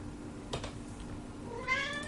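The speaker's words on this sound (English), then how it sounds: "Meow to you, Mr. Cat." A cat meows once, rising and clear, near the end of a short stretch of quiet room noise with a faint thump earlier.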